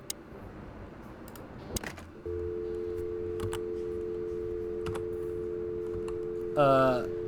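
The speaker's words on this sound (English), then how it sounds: "we're doing like old school rotary phone number style" Old-style rotary phone dial in the Chicken Police game ticking through a number, scattered clicks and a short whirring return near the end over a steady electronic hum; faint background game ambience.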